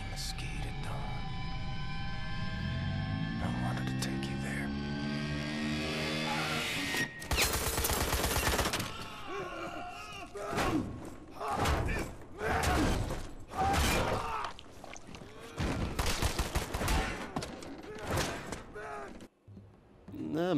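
Gunfire from Wolfenstein: The New Order, firing in loud irregular bursts that follow an opening stretch of mechanical whirring and rising tones, with the shots rattling on through the rest of the scene.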